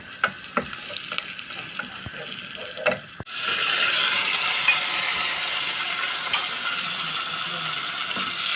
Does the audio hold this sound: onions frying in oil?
yes